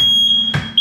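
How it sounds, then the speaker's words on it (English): A kitchen smoke alarm emits a loud, piercing electronic tone that holds steady, breaks off briefly amid a burst of noise, then resumes. "This alarm can't be silenced. Smoke levels are too high."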